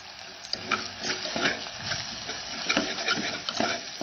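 Ground spices, Kashmiri chili powder, kala masala and garam masala, are stirred and sautéed in a pan with repeated scraping strokes and soft sizzling, close and moderately loud, no talk.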